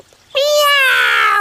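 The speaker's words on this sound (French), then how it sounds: "Oh, un chaton, le pauvre." A kitten gives one long, clear, drawn-out meow, loud and close, rising sharply and then holding steady before trailing off. It is stuck and cannot climb back down.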